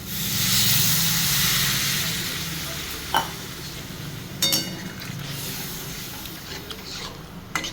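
Water poured into a hot pan of nearly cooked potatoes for a vegetarian aloo dum, producing a loud steady hiss and sizzle that fades a little, with a few clinks and scrapes of stirring.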